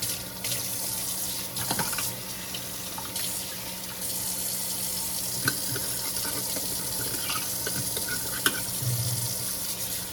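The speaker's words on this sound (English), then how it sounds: "Let me rinse this sink out." Water runs steadily from a tap into a sink being rinsed, a continuous close hiss with faint clinks and knocks scattered through it, and no voices.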